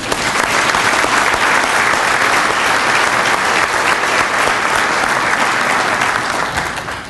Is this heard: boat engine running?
no